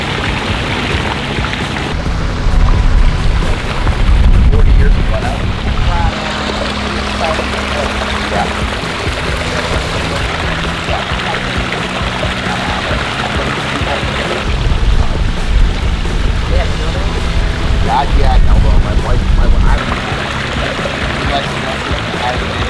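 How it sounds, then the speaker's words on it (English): Water from a small front-yard pond waterfall pours and splashes continuously, a steady, fairly loud rush that swells in a couple of stretches. "My friends love to sit on the porch and listen to the waterfall"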